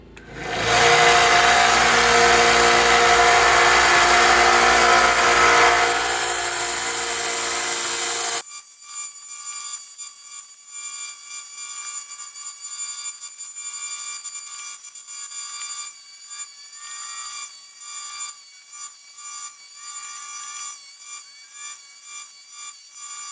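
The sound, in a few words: sharpening a railroad spike knife blade on a 1-inch belt grinder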